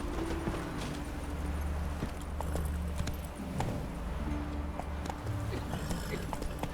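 Horse hooves clip-clop at a steady walking pace in The Witcher 3, with a low rumble and game ambience beneath the hoofbeats.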